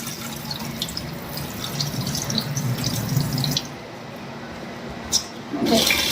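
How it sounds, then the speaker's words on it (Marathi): Fresh water pours from a tap into a vessel of soaked wheat, a steady splashing run that pauses briefly and resumes with a drip. "याच्यामध्ये चांगलं पाणी भरूया।"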